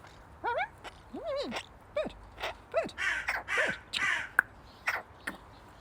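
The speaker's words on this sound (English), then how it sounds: "Bird." Several harsh crow caws ring out one after another in an irregular series, loud and close, with no talk over them.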